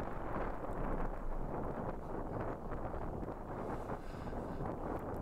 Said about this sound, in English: it's rather windy, and wind is not very good for this sort of photography